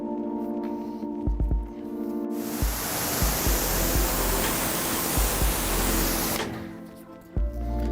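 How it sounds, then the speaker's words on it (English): A water hose sprays hard onto a car wheel during professional detailing, a steady loud hiss of rushing water lasting several seconds, framed by brief quieter moments with small knocks before and after the spray. "So now we want to start by rinsing that surface."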